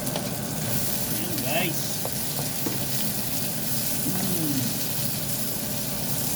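Garlic and white onion sizzle steadily in a hot frying pan, a continuous close hiss with occasional stirring, while a voice speaks briefly over the cooking.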